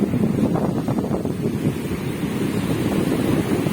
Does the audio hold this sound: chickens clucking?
no